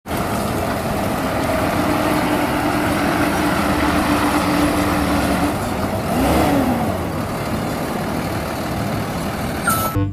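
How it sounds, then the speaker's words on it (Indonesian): A tow truck's engine rumbling steadily at close range, loud and continuous, with a brief rise in pitch partway through and traffic noise around it. "Di sini ada truk derek."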